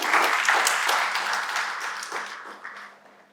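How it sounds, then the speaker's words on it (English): Audience applause at a university discussion event, a dense wash of clapping from a crowd that slowly tapers off over a few seconds. "I think you should clap hands for her."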